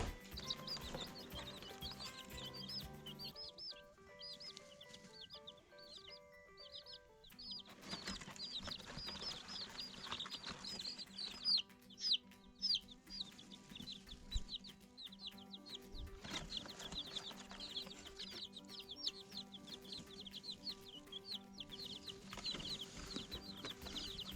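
Many chicks peep in rapid, high chirps, steady and fairly close, with faint background clucking and no talk.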